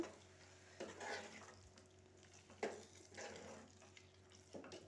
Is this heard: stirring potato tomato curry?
yes